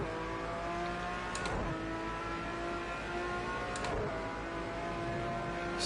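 Race car engine in a Donington driving game, droning steadily through a gear, with two sharp upshifts breaking the tone at regular intervals, loud and close throughout.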